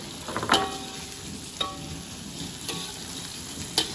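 Oil crackles and sizzles steadily as squid fries in a hot wok, with a few sharper pops and spits standing out.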